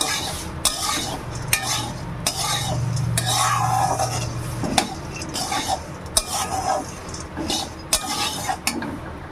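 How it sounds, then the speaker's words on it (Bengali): Store-bought boondi frying in a pan, a soft sizzle under repeated sharp metal spatula scrapes and clinks against the pan, close and irregular. "বুন্দিয়া নিয়েছি তাই একটু ভেজে নিচ্ছি"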